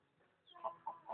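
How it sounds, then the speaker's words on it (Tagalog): Chickens being fed give a few quiet, close clucks in quick succession over faint background noise. "Yan, nagpapakain sila ng mga manok."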